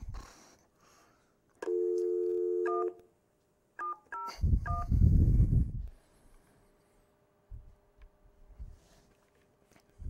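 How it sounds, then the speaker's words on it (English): A retro telephone used over a VOIP line places a call: a steady tone for about a second, then a quick burst of keypad dialing beeps, a brief rush of noise, and faint clicks afterward. "So like, we'll call Lenny"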